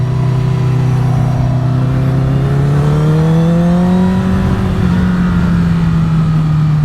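Motorcycle-like engine on new tyres being scrubbed in, with a steady loud drone that climbs in pitch as the throttle rises over several seconds, rising harmonics sweeping upward, close and continuous without talk.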